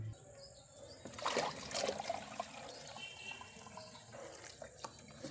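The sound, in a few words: water being poured into betta breeding tank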